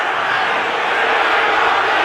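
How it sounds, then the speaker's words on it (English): A football stadium crowd at an AFC Wild Card playoff game, Broncos versus Bills, booing a disputed ball spot: a loud, steady, dense roar of many voices sustained throughout without a break. "the crowd is booing the spot of the ball"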